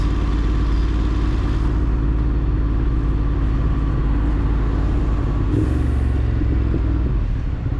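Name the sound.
tunnel traffic in Midtown Manhattan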